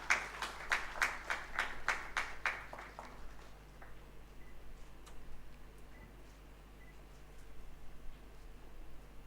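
A round of audience clapping at a memento presentation during a formal function, crisp and rhythmic at first, then dwindling within a few seconds to sparse faint claps over quiet room hum.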